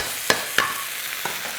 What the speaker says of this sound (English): because that is really sizzling away